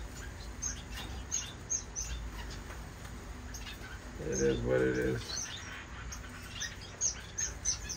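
Parrot finches and Gouldian finches chirp in a bird room, giving faint, high, repeated tweets scattered throughout, while someone speaks briefly in a quiet indoor space.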